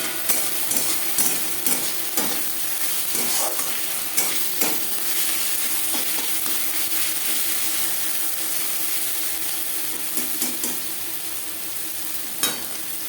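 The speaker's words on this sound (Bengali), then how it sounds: "আদা ও লঙ্কার কাঁচা গন্ধ যাওয়া পর্যন্ত নাড়াচাড়া করে নেব।" Ginger and green chillies fry in a pan for a fish-oil and aubergine dish, a steady close sizzle punctuated by repeated scraping strokes and clicks of a spatula stirring at an uneven rhythm.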